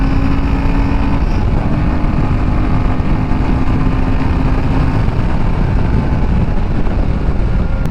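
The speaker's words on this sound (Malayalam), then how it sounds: "അതായത് എഞ്ചിൻ റവ് ചെയ്യുന്നതിൻ്റെ ഒരു സൗണ്ട് എനിക്ക് വരും." A Royal Enfield Himalayan 450 motorcycle rides along an open road. Its engine gives a loud, unbroken drone mixed with rushing wind, with no talking.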